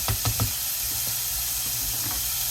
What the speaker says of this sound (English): half a diced onion, about half a cup of onion. Fry in a medium-sized saucepan on around medium heat.